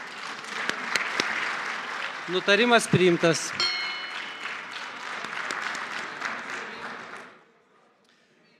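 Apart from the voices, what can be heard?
applause in parliament after a unanimous vote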